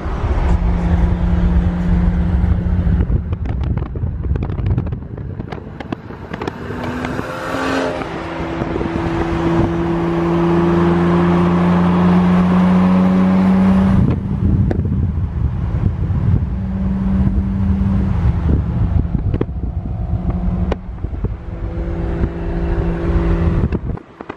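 A BMW with a catless exhaust drives past, giving a loud, sustained engine and exhaust roar that swells and changes pitch through the pass and stays strong throughout.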